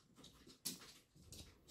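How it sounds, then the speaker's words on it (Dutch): Up close, a small dog whimpers and begs with soft high whines and panting breaths, coming in short bursts with one sharper yip-like cry, faint overall. "Ik heb hier een heel lief hondje."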